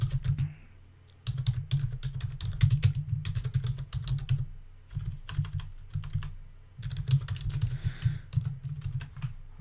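Typing notes on a computer keyboard, with close, quick key clicks coming in several bursts separated by short pauses.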